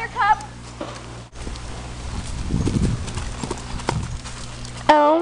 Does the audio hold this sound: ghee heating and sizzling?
no